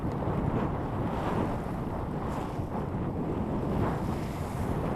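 Continuous roar of wind and rushing water around a small boat off Île d'Oléron, big waves surging and slapping in a heavy, unbroken wash with no voices.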